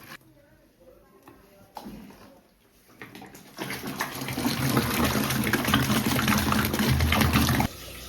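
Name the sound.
water poured into curd mixture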